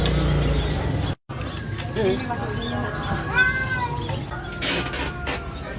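Cats in pet shop cages meow in short, high cries, several separate calls mixed with background voices and ambient noise, briefly cut by a moment of silence.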